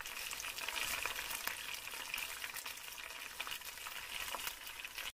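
Ghee tempering with two green chillies, fried on low flame, is poured over potato dum aloo, giving a steady loud sizzle and crackle that runs evenly throughout and cuts off abruptly at the end, with no talking.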